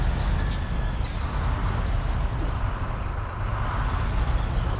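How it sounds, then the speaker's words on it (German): A truck in the SnowRunner game releases its handbrake with a brief hissing air burst, then its engine starts and settles into a low, rumbling idle, fairly loud and close. "Wir lösen es mit Handbremse und starten das ganze Gefährt."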